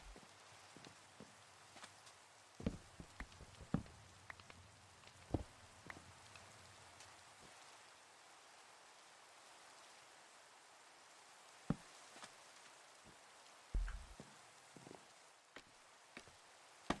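Steady light rain patters continuously in a video game, with scattered sharper drips and taps, soft and even throughout, no voices.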